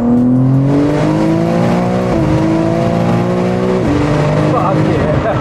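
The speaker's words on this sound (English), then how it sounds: "listen to your turbo, man" A turbocharged 1300 hp BMW M3 G80 with a ZF gearbox roars loudly from inside the cabin as it accelerates hard, engine pitch climbing and dropping sharply at each upshift.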